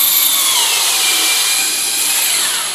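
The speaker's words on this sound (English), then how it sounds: "It's a variable speed drill." A variable speed power drill runs steadily and loudly at close range for the whole stretch, its high whine holding constant with a slight drift in pitch and no voices.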